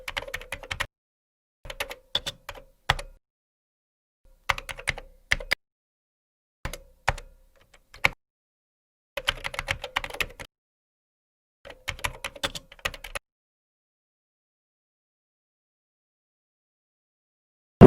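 Close computer keyboard typing in short bursts of rapid keystrokes separated by silent pauses, ending with a long quiet stretch and one final sharp click.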